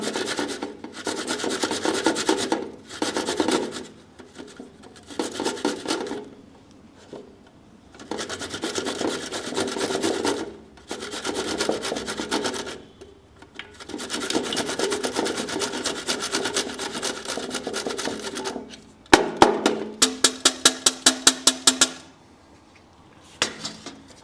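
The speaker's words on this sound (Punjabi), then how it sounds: "ਆਪਾਂ ਇਹਨੂੰ ਇਸ ਤਰ੍ਹਾਂ ਕੱਦੂਕਸ ਕਰ ਲਿਆ" Fresh turmeric root is rasped across a hand grater in close, scratchy strokes that come in bursts of several seconds with brief pauses between them. Near the end there is a run of quicker, sharper scrapes.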